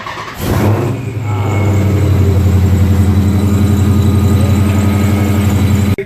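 A 2017 Dodge Challenger Scat Pack engine idles close by with a loud, steady, rumbling burble after a short squeal at startup, continuing evenly until it cuts off at the end.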